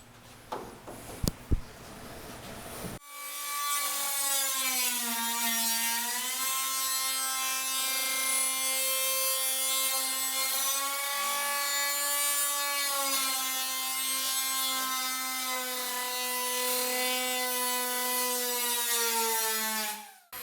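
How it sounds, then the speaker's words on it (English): An angle grinder slices through a C1 XL floor panel, a loud sustained whine with steady harmonic tone that runs continuously after a few brief knocks at the start, with no talking. "how he was cutting that. The rotation of this grinder, how that dust is coming off"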